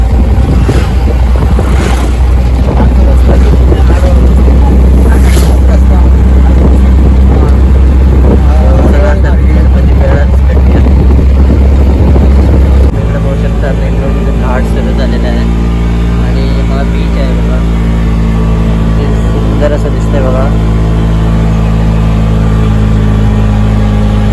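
An auto rickshaw travelling on a road toward Ganpatipule produces loud, continuous engine drone and wind rush. Voices talk over the noise, and the engine pitch drops and settles about halfway through.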